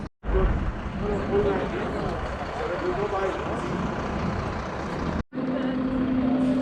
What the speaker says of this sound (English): Here goes the cable car.